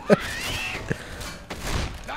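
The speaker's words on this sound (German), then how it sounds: "Ist echt noch lustig mit dem Snipergewehr." A sharp sniper rifle shot cracks at the start in the video game Left 4 Dead, followed by a fainter second shot and a muffled thump amid low game background noise.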